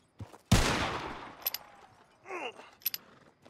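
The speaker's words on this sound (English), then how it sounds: "Shooting." Gunshots in Red Dead Redemption 2, a Lemoyne Raiders shootout: a loud sharp blast with a long decaying echo, followed by two quieter pairs of cracks and a whistling ricochet-like sweep.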